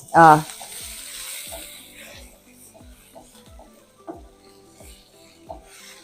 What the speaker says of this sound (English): The mushrooms really don't take long to saute.